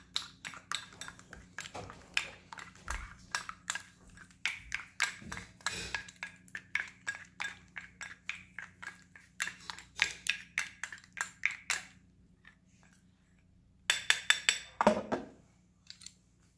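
Ingredients for a skin-pigmentation treatment being stirred briskly in a bowl, giving rapid irregular tapping and clinking strokes with brief pauses, close and fairly quiet.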